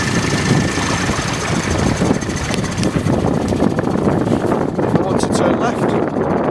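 An outboard boat engine running under throttle, a loud, steady rumbling drone with a rough mechanical texture and no break throughout.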